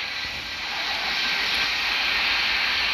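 An airplane engine in the video game Airport Madness 3D gives a steady, loud, even drone that swells slightly and holds without a break.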